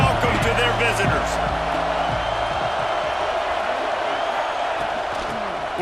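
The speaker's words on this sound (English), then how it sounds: "This crowd bringing an ear-splitting welcome to their visitors." At an Ohio State vs UCLA college football game, a packed stadium crowd gives its visitors a loud, continuous roar that fills the whole stretch, with faint voices underneath near the start.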